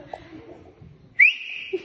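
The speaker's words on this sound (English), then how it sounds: "give me a whistle. A good one." A person whistles a sharp, loud sustained note that rises quickly and holds steady, following a stretch of quiet murmuring in an indoor memorial gathering.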